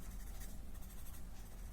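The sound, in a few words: graphite pencil blending and shading on paper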